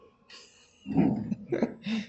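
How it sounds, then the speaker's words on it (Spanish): A single sneeze comes through a radio broadcast, a short nasal burst with a following gasp, close and moderately loud. "viene el estornudo de la radio"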